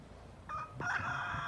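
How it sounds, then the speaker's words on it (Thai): A rooster crows once on a small livestock farm with sheep and chickens, a fairly close, brief call rising out of soft outdoor background noise. "ไก่ธรรมดาไก่พันเนื้อพันไข่ ไก่หยอกไก่ยวงมีหมดค่ะ"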